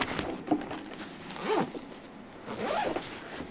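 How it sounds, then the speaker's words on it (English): A camera bag's back zipper is pulled three times in short, scratchy strokes, close up, with brief pauses between each pull. "you have a back zipper right here"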